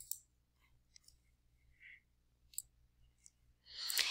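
Faint, sparse clicks of a computer mouse in a quiet room, a few isolated taps spaced apart, then a brief louder rustle at the end.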